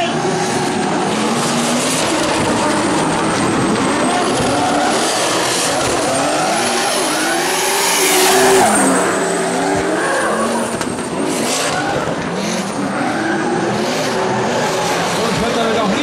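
Two drift cars in a head-to-head battle at an Iron Drift King event run at full throttle, engines roaring loud and continuous while tires squeal and skid through the run, with crowd and announcer sound mixed in.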